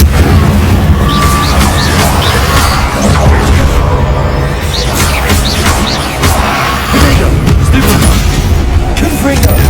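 A loud, sustained fiery blast from the Incendio fire spell in Hogwarts Legacy, a dense rumbling roar with booming bursts throughout, no talk.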